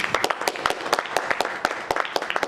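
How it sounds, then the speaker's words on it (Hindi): A theater audience claps warmly for the actors on stage at a performance of the play Kafan, giving dense, steady applause with many overlapping hands at a moderate distance. "दर्शकों से निवेदन है कि हमारे इन कलाकारों का ताली बजाकर स्वागत करें"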